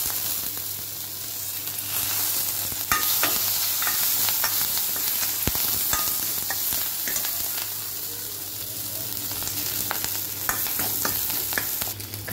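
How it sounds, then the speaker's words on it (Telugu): Green chillies, ginger, onion and curry leaves for buttermilk rasam fry in hot oil with a steady, crackling sizzle, while a spoon stirs and scrapes the pan now and then throughout. "మజ్జిగ చారుకి 2 పచ్చిమిర్చి, కొంచెం ఒక చిన్న ముక్క అల్లము సన్నగా తరిగి యాడ్ చేస్తున్నాను."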